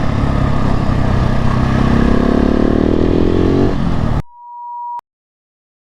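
A supermoto motorcycle revs loudly during wheelie practice, its engine rising steadily in pitch before cutting off abruptly and giving way to a brief electronic tone.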